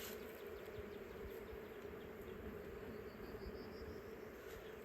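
Honey bees hum around two new five-frame nuc hives, a steady, dense low buzz that holds without a break through the whole stretch, with no one talking.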